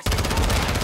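Gunfire in the shooter Modern Warfare 2, a sustained loud stream of rapid automatic shots starting abruptly and continuing without break, close and dense.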